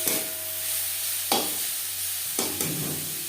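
Brahmi greens for a curry frying in a pan, with a steady sizzle and a few distinct stirring scrapes spaced through the clip, close and alone.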